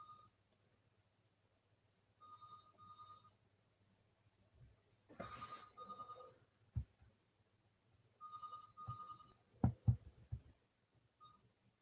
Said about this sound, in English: Sorry about this, the phone's ringing.